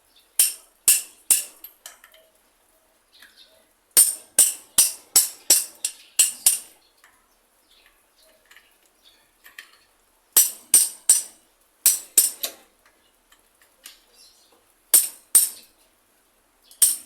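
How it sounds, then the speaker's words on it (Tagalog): A hammer strikes metal while a clutch lining is fitted, sharp ringing taps coming in quick bursts of three to six blows separated by short pauses, close by and with no talking. "Pukpukin natin ngayon ang martilyo."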